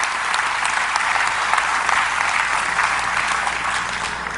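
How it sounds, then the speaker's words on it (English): Congregation applause during a church service broadcast, a continuous full room of clapping at even loudness throughout, with no voices standing out. "Clap loud, please."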